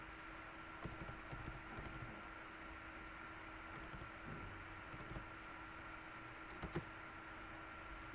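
Light, scattered keystrokes tap on a computer keyboard in short bursts with pauses between them, over a quiet background hum.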